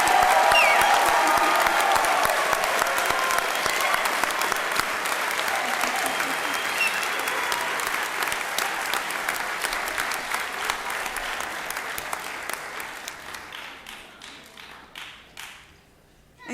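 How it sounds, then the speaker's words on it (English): A large audience applauds the graduates of the 18th company at a fall graduation ceremony, loud dense clapping that starts at full strength, slowly thins and fades to a few scattered claps by the end. "We need to applaud each and every graduate of the 18th"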